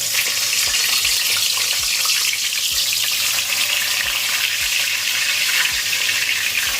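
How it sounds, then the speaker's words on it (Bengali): Eggplant slices fry in hot oil in a home kitchen, giving a steady, close hiss and crackle of sizzling that runs continuously with no voices. "বেগুন তেলে বেগুন ভাজা"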